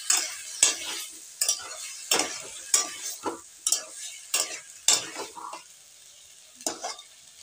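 Egg curry is sautéed in spice masala as a spoon scrapes and stirs the pan in quick, uneven strokes over a soft sizzle, nearby, with a brief quieter gap before a final stroke.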